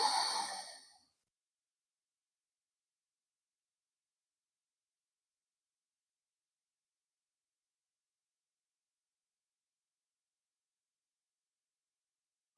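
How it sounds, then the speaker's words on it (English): A single slow, breathy exhale during a yoga session, soft and close, lasting about a second before the room falls silent. "breathing out."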